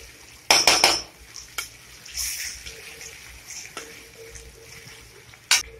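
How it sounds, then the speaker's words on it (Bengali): Grated ginger with spices is stirred and fried in a pan: a few loud scraping clatters of a spoon against metal early on, then a low sizzle with occasional soft clinks. "আমি মশলার সাথে আদাটা ভালো করে ভেজে নেবো।"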